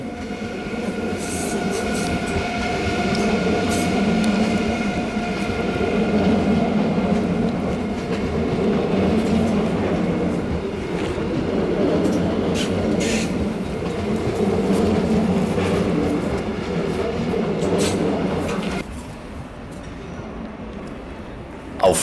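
An ICE high-speed train, Velaro D type, moves through Stuttgart Hauptbahnhof in 2015 with a loud, sustained rumble and wheel squeal, then drops off sharply near the end.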